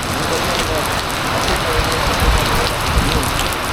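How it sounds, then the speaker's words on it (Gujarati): Rain falls steadily in Rajkot as a loud, even hiss of drops hitting surfaces nearby, with no break across the stretch. "રાજકોટમાં અત્યારે વરસાદ છે, આજે વરસાદ છે."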